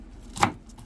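A sharp kitchen knife chops fresh cilantro into small pieces for Spanish sofrito, a single close, crisp chop against the board.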